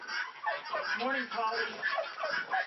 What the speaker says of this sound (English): I have 4 guinea hens, and I can't tell them apart, so I call them all Polly.